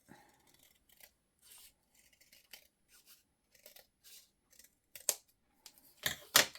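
Sharp, close scissor snips trim a folded sheet of paper in short irregular bursts, with quiet rustling between cuts and a few louder crisp cuts near the end.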